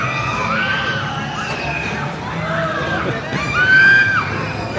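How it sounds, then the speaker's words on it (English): Riders scream on a roller coaster at Knott's amusement park, several high wailing shrieks rising and falling at a distance over a busy crowd murmur, the loudest burst coming near the end. "Screaming over here, screaming."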